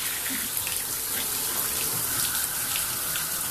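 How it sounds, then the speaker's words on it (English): A bathtub shower running after the three-handle faucet's diverter valve is turned, sending water to the showerhead: a steady, full hiss of spray and splashing that holds evenly throughout with no voices. "Now we're going to turn the shower on using the diverter valve."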